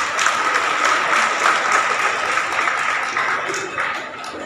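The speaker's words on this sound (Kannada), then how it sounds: "ಅವರಿಗೆಲ್ಲರಿಗೂ ನಿಮ್ಮ ಅಭಿನಂದನೆ, ಚಪ್ಪಾಳೆಯನ್ನು ಸಹ ಬರಬೇಕು" An audience at a public gathering breaks into loud, steady applause that holds for several seconds, dense clapping filling the whole stretch.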